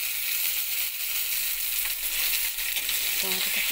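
Tomato frying with browned onions in a wok of hot oil crackles in a steady, close sizzle throughout, with faint stirring and a brief low voice near the end.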